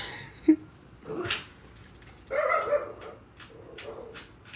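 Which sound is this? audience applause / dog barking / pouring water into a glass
dog barking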